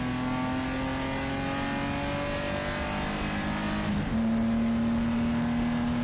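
Race car accelerating hard on the Buttonwillow circuit, a loud, steady engine note rising in pitch as the throttle opens, briefly dipping near a shift before pulling strongly again, with no talk.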